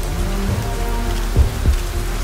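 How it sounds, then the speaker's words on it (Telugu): Heavy rain pours steadily outdoors, a dense continuous hiss with a few louder drop impacts close by and no talking. "అరే వర్షం బాగా పడుతుంది,"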